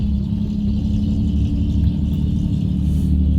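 Cars and trucks on a jammed suburban road on the edge of Vientiane give off a continuous, fairly loud low rumble of engines idling and moving in the morning, with no voices.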